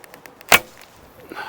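An arrow is loosed from a laminated Tatar bow, a single sharp snap and whoosh at close range, followed by quiet and a faint later thud.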